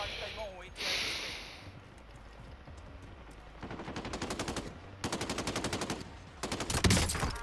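Rapid bursts of automatic gunfire in the battle royale video game Call of Duty Warzone crackle in several sustained volleys, loud and close, with a player's voice and breaths heard between them.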